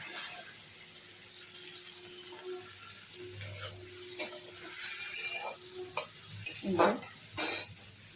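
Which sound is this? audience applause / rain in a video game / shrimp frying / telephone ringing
shrimp frying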